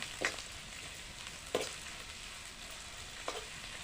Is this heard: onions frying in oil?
yes